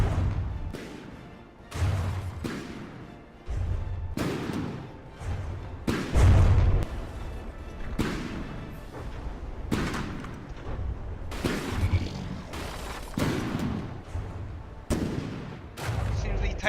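Tank cannons firing shells in the video game From The Depths, a T90 against a Type 621 main battle tank, give repeated heavy booming shots at irregular intervals, each a loud low thump with a short tail, one after another.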